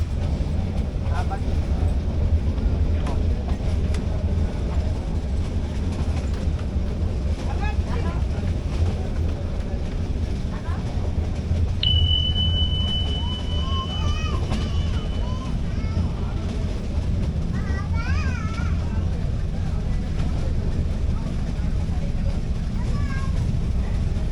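Meter gauge train running on the line from Junagadh to Sasan Gir, a steady low rumble with rattling and wind buffeting throughout, a brief high whistle tone in the middle, and people talking faintly beneath.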